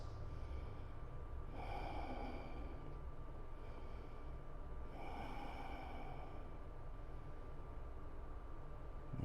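Slow deep breaths drawn through the nose with lips sealed during a yoga pose, two long rushing inhales and exhales with a hissy nasal edge, close and steady with a constant low hum underneath.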